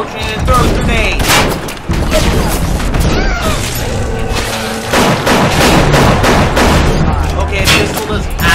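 Enemy gunfire in the video game Bioshock: loud, dense bursts of shots and booming impacts that go on nearly the whole time, with crashes layered in and a brief drop near the start.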